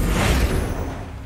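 An Incendio fire spell cast in the video game Hogwarts Legacy, heard as a loud, close, low rushing whoosh that swells at the start and then fades out over about a second.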